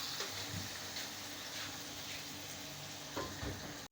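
Onions frying in a pan for potato samosa filling, a soft steady sizzle with occasional light stirring scrapes, faint and close, with no talking.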